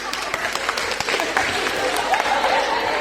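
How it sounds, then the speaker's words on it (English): A crowd breaks into scattered applause during a skeptics' talk on astronomy, a moderately loud patter of claps mixed with crowd murmur and some voices, lasting about three seconds. "Did I get an applause for astronomy?"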